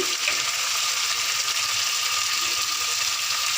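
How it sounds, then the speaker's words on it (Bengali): Spices are stirred and fried in a pan for a rupchanda fish curry, giving a steady close sizzle with faint clicks and scrapes from the stirring. "এবার সেগুলোকে নাড়াচাড়া করতে হবে, মশলাগুলোকে কষাতে হবে।"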